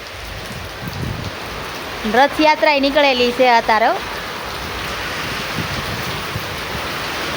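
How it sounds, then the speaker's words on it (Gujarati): Heavy rain pours down in a steady, dense hiss during a village Rath Yatra procession. A person speaks for a couple of seconds over the downpour. "ઓહો કેટલો વરસાદ બાપરે, આ તો મને પલા દે."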